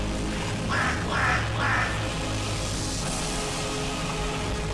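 Three quick, nasal duck quacks sound close by, evenly spaced, then fade into a busy outdoor background hum.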